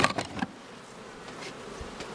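Honeybees buzz around a beehive in an apiary during cold early-season weather, a soft continuous drone with a few louder close passes at the start.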